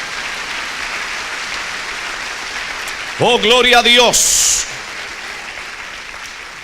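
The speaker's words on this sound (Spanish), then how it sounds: "dáselo fuerte al Señor ese aplauso" A church congregation applauds during a worship service, a steady broadband wash of clapping running the whole time while a voice briefly exclaims loudly over it midway.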